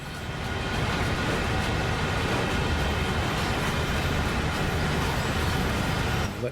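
A heavy freight train descends a steep grade with the brakes applied hard on the San Bernardino line in Train Sim World 5. It makes a dense, steady rumble and hiss that holds unchanged throughout, with no talking.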